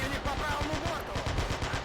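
An 88 mm gun fires armor-piercing rounds at a KV-1 tank in the Men of War battle for Stalingrad, heard as steady, dense rumbling battle noise with rapid repeated low thumps throughout.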